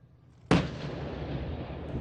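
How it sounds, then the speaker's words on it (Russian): A tank's main gun fires during flank shooting at a tank biathlon on a range near Chebarkul: one sudden, loud, deep blast whose booming rumble rolls on and slowly fades. "Фланговая стрельба – один из самых сложных элементов танкового биатлона"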